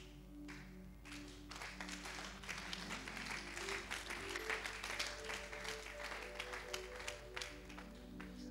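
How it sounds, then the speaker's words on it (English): An audience in a church hall claps together in sustained applause, dense and continuous for several seconds under a low constant hum, with a brief lull before the clapping swells again. "I told you, if you want to clap,"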